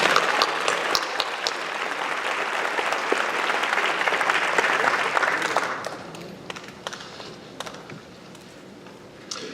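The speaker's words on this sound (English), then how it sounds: "Let's have a big round of applause for all of our awardees." A large audience at a spring convocation applauds the awardees, a loud sustained roar of clapping for about six seconds that then drops away to scattered claps and room noise.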